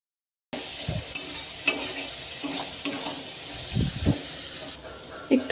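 Pointed gourd seeds are stirred into a frying soybean filling in a pan, giving a steady close sizzle broken by scraping strokes of the spoon.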